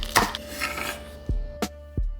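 Green onion is chopped on a cutting board, several crisp knife strikes at uneven intervals, close and fairly loud, with kitchen clatter early on and no talking.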